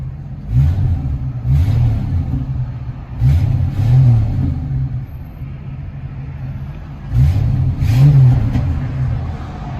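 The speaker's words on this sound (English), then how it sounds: "'66 Mustang with a Flowmaster 40 series single." A 1966 Ford Mustang engine with a Flowmaster 40 series single exhaust revs repeatedly, loud deep blips rising and falling over a throaty idle, close by with no talking.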